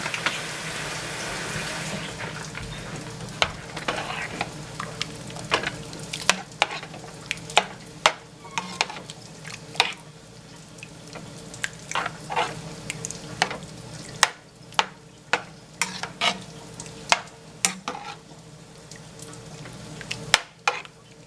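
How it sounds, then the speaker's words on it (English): Tomato paste spaghetti sauce is stirred in a pan with a little water added, giving a soft sizzle under repeated scraping and clinking strikes of the utensil that come in an irregular rhythm, close by and with no voices. "mix this up real good and make sure you loosen that tomato paste up in here"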